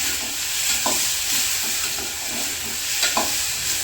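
Chopped tomatoes are stirred into browned ingredients in a hot pan at home, giving a steady sizzle and fry with a few brief scraping strokes of the spoon. No one talks.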